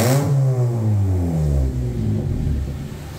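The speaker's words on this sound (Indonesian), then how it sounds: "Apa mau saya ngegasin Om yang dengerin?" A Honda Brio automatic fitted with a JS Racing full-system exhaust revs loudly and close by, with a strong rising-then-falling engine note that holds steady through the short burst.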